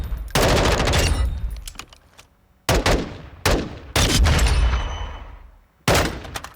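Automatic M4A1 SOP rifle fire in Call of Duty Modern Warfare II rips out in several loud, close bursts with short gaps between them, each burst ending in a decaying echo.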